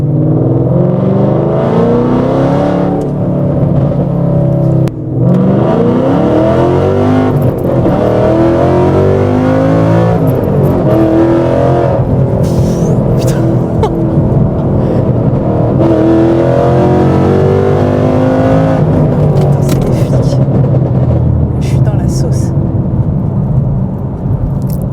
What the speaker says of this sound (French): à bas régime, niveau échappement, niveau sonorité, elle râle en fait. Elle crie.